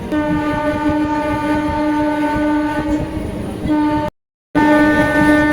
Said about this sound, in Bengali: ট্রেন বৈদ্যবাটি ছাড়লো, এর পরের স্টেশন হচ্ছে শেওড়াফুলি জাংশন।